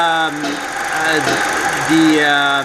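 A 2.0L FSI engine in an Audi A4 Quattro idles while still cold, at 53 degrees Celsius, a steady, close mechanical hum beneath someone talking throughout.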